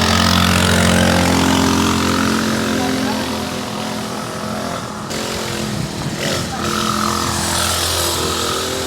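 Stock 2-stroke 49cc pocket bike engine running loud and close, a buzzy sustained drone with slight dips in revs, voices talking faintly beneath it.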